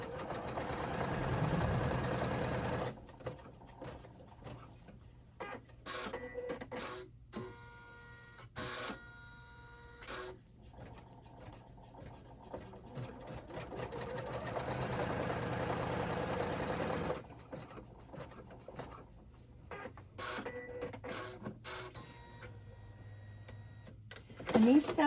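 Embroidery machine stitching the tack-down on an in-the-hoop wallet, giving bursts of rapid, rhythmic mechanical chatter separated by short pauses, close and fairly loud, with a low motor hum underneath.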